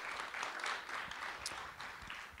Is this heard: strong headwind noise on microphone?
no